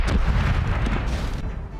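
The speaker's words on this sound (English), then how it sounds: "Starboard cannons are ready to fire!" Ship cannons fire in the Corsairs Legacy pirate video game during a naval battle, a dense rumbling boom with heavy low-end thunder that rolls on for nearly two seconds and fades slightly toward the end.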